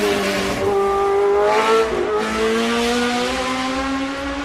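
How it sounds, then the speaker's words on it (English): A Lotus Cosworth 72 Formula One race car in John Player Special livery roars past, its high-revving V8 engine loud and close, pitch sliding as it goes by and continuing strongly to the end. "that was one of the greatest race cars of all time, the Lotus Cosworth 72, the John Player Special"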